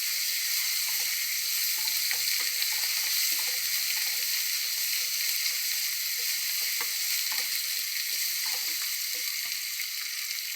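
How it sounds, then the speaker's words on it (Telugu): Ginger-garlic paste fries in a pan for a bottle gourd curry, giving a steady, even sizzle with scattered small pops and crackles throughout, with no voices. "ఇది అల్లం వెల్లుల్లి పచ్చివాసన పోయే వరకు కొంచెం ఒక నిమిషం వేయించుకుందామండి"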